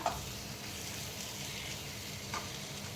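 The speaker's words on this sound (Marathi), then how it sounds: "हे थोडं तूप राहिलं होतं ते मी वरून असं अजून घालते आणि परत एकदा छानपैकी ढवळून घ्यायचं आहे" Sheera, a semolina halwa, is stirred in a pan with extra ghee while it cooks, giving a soft continuous sizzle and scrape. The sound is faint and steady, with one small clink near the end.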